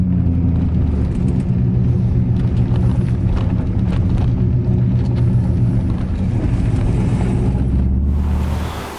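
A C5 Corvette driven on the road, its engine a steady, loud low rumble throughout with road noise layered over it, dropping off right at the end.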